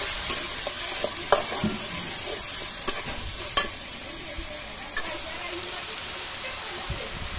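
Onion paste frying in a pan while a home cook prepares food for guests, a steady soft sizzle with a few sharp clicks and scrapes of a utensil.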